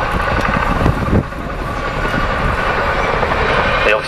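A Chinook helicopter is thrown around in an airshow display at RIAT 2009, heard as a steady, loud rotor and engine roar with rough, chopping texture.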